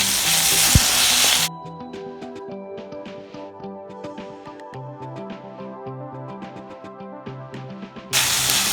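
Onion, tomato and curry leaves hit hot oil for bread upma, loud spraying sizzles at the start and end framing a quieter stretch of gentle frying and spatula stirring.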